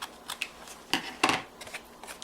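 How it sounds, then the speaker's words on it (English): Scissors snip through excess card paper close by, a few quiet, crisp cuts at an uneven pace, the two middle snips the loudest. "And then just take my scissors and trim off the excess."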